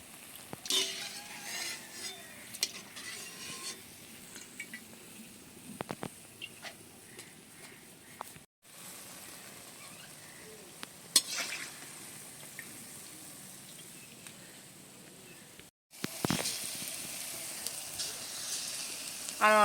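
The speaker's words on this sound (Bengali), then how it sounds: "একই রকমভাবে সব তালের বড়াগুলো আমি ভেজে নিচ্ছি।" Palm fruit fritters (taler bora) fry in hot oil with a steady sizzle, broken by occasional stirring scrapes and two short pauses, the bubbling louder near the end.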